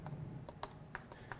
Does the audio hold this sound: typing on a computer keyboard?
yes